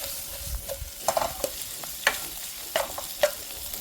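Bacon stir-fried in a pan for kimchi fried rice, a low continuous sizzle broken by repeated sharp scrapes and taps of a spatula, close and fairly quiet, with no talking.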